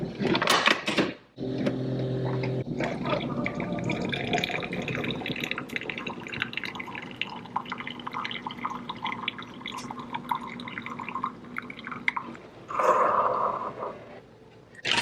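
A K-cup coffee brewer dispenses coffee into a mug: a brief hiss and machine start, then a steady trickle and dripping of liquid filling the cup, ending with a short gurgling sputter.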